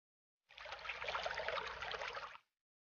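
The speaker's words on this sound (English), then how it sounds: "Come, let us empty the water from his tire." Water pours out of an old tire in one continuous two-second splashing trickle, faint and alone, starting and stopping abruptly.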